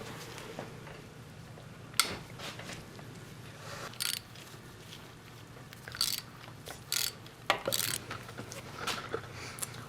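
Ratchet wrench clicking in short, irregular bursts while loosening engine bolts during crankshaft and cam removal, moderately close over a steady low workshop hum.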